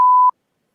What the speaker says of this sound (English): I gotta beep it anyway.